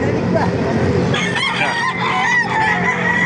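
Roosters crow loudly and close by at a chicken market in Baliuag, Bulacan, several overlapping calls with some clucking, and a voice faintly underneath.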